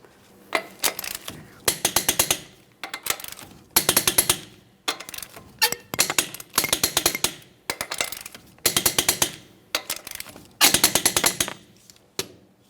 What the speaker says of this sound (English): The wheel's back on the ground, we'll torque all of the lug nuts to 148 foot-pounds.